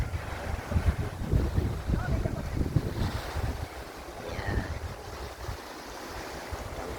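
Wind and waves on the beach at Colera, Spain, near the French border: buffeting wind noise over a low rumbling surf wash, with muffled voices in the background.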